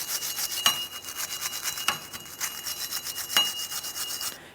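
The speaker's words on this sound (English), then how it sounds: "We'll use a wire brush." A wire brush scrubs a car wheel hub during a rear brake job on a 2007-2013 Acura MDX, making steady, close, rasping strokes with a few sharper scrapes and no talking.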